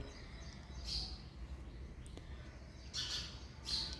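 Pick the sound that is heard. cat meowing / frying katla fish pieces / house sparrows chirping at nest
house sparrows chirping at nest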